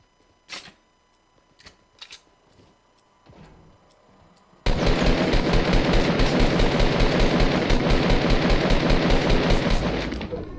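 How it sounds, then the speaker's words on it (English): Gunfire in the video game Fortnite: a few scattered sharp shots and clicks come first, then a loud, close, rapid automatic burst hammers on without pause for about six seconds. "You're getting shot at, shot at."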